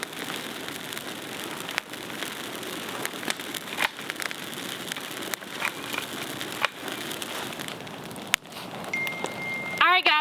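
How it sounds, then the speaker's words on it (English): Rain falling outdoors around wood being treated, a steady fine patter of drops on surfaces with scattered sharper taps and knocks, nearby and continuous, and a short voice near the end. "we got to do this really quick because it's starting to rain"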